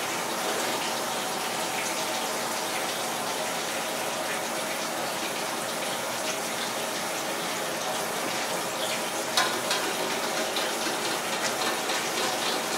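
Warm and cool water from bottles are poured and mixed together, giving a steady, broad rushing pour that runs without a break for the whole stretch, close and fairly loud, with a brief splash near the end.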